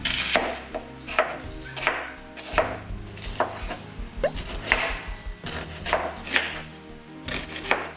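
Knife chopping onion on a cutting board, a close run of quick, irregular thuds and crisp cuts with brief pauses between bursts, no talk.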